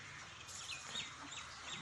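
Country chickens and roosters cluck faintly nearby, with a few short, high calls over a low, steady background.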